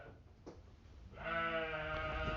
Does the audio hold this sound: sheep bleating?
yes